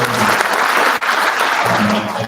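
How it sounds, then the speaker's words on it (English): A full hall at an annual general meeting breaks into loud, sustained clapping, dense and close with a brief dip midway and a faint voice underneath. "So you want to give them a clap."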